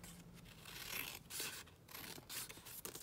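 Scissors snip through paper to trim an envelope lining, giving quiet, close cutting and rustling strokes in short bursts.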